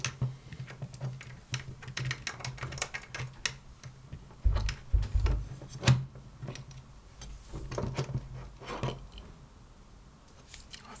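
A screw being pressed down and tightened into a Tilta rotatable top handle and camera cage, giving close, light clicks and ticks in an irregular run with no speech.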